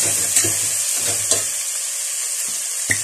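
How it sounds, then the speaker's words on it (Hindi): Kashmiri red chilli sizzling in a hot pan while an aloo biryani masala cooks, with a steady broadband hiss and a few sharp stirring clicks, close and alone without talk. "उसके बाद हम इसमें थोड़ा सा कश्मीरी लाल मिर्च, चंद मिनट हम इसको भूनेंगे।"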